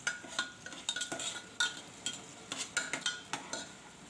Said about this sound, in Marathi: आता हे सगळे साहित्य दोन ते तीन मिनिटभर आपण चांगले परतून घेऊया